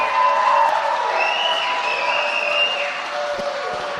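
An audience at a climate event about ending fossil fuels bursts into sustained applause mixed with cheers and whistle-like whoops. The sound is loud, full and steady, easing off slightly toward the end.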